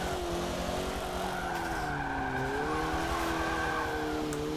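A car drifting in Forza Motorsport 7, its tires squealing in a long wavering whine over a steady, loud engine roar, continuous throughout with no talk.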